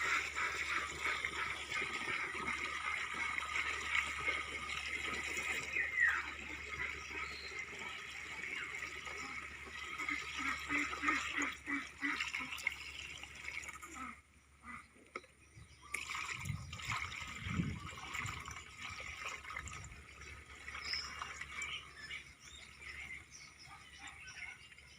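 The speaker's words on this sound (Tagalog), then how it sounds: "So ngayon ay natin itong lalagyan po natin ng tubig. Pupunuin po natin sa mga sulibay." Water runs steadily into a knapsack sprayer tank on a farm, a continuous trickling fill with a short pause partway through.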